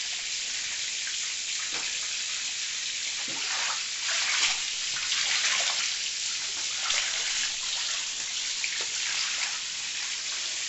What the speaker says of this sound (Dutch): als we onze emmertjes vullen